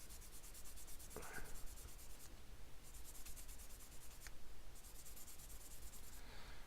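A soft, squishy 4000 grit pad buffs and polishes a piece by hand, giving faint, steady rubbing strokes in repeated bursts that come and go at low level.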